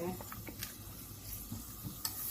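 Butter hitting a hot pan while cooking rice with garbanzos, a loud continuous close sizzle with bursts of crackle and spatter and light stirring scrapes.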